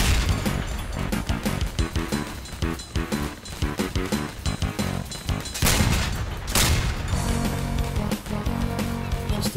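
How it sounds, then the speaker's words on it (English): Rapid enemy machine-gun fire in a video game rattles in a loud, continuous stream of closely spaced shots, with crashing impacts mixed in throughout. "Oh, it's the machine gun one."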